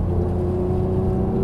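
A Porsche GT3 engine pulls hard on a race track, holding a steady tonal whir with strong low harmonics heard from inside the car, sustained and even through the short stretch with no talk.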